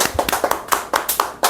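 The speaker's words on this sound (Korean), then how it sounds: "박수" Church congregation clapping during a worship service: a short burst of quick, distinct hand claps in an uneven rhythm, fairly close and unaccompanied by speech.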